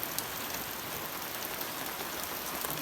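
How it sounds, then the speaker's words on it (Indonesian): Steady rain falling as a dense, even hiss with scattered drops hitting a surface, constant and moderately quiet throughout, with no voices. "Hujan bos."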